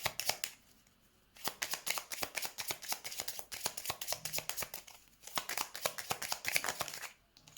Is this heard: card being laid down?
yes